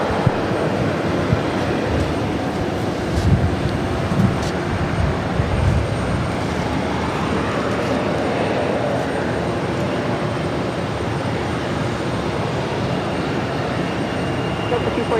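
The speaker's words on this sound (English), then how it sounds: "This is JetBlue Airways 892 coming in from Tampa, Florida." JetBlue Airways jet arriving at Boston Logan from Tampa: a steady, moderately loud jet rumble of a landing aircraft, with a few faint bumps and ticks over it and no clear voices.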